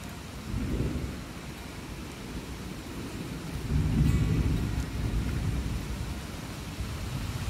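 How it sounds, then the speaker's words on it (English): A storm over a garden property after about three inches of rain in an hour: low rolling thunder swells twice over steady, heavy rainfall, with no talking. "This thunder,"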